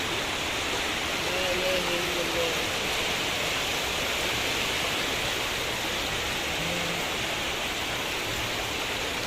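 Floodwater rushing in a strong current across a damaged road in Al Khobar after light rain, a steady, dense roar of moving water that fills the whole clip, with a faint voice briefly audible underneath.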